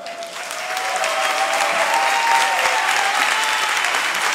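An audience at an evening business opportunity meeting breaks into applause that swells quickly and then holds as a thick, loud, continuous ovation with a faint ringing tone underneath.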